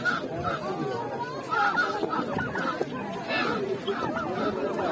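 Ducks, turkeys and other poultry at a busy bird market honk and chatter continuously amid a crowd's hubbub, with the calls moderately close and mixed with background voices.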